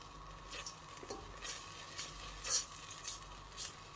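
Tomato paste and tomato sauce frying in a pot for Konya-style meatball soup, with a soft steady sizzle broken by spoon scrapes and stirring clinks at close range.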